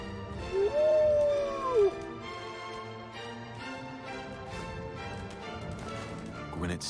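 Dogmeat, the dog companion in Fallout 4, lets out a clear rising-and-falling howl lasting about a second, followed by quieter game ambience, soft rustling and faint whimpers.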